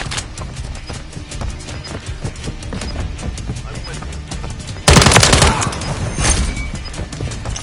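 Gunfire in the video game Modern Warfare 3 multiplayer, a steady clatter of shots through the first five seconds, then a loud, dense burst of fire or explosion that trails off into more shooting, with voice callouts mixed in.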